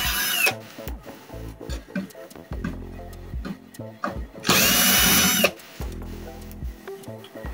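A cordless power screwdriver whirs in several short bursts as it backs screws out of a Kyocera printer's casing, with clicks and handling of parts between the runs, close up and fairly loud.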